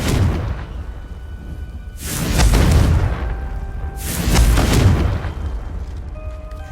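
Two heavy booming blasts from the Confringo explosive spell in Hogwarts Legacy, each erupting loudly and rumbling off over about a second, spaced roughly two seconds apart with no talk.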